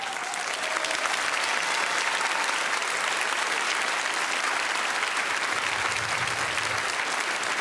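An audience applauds Roger Talon, the industrial designer, in dense, sustained clapping that holds steady, with a low voice briefly speaking near the end.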